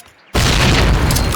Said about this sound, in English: Throw a grenade into each of the openings before you.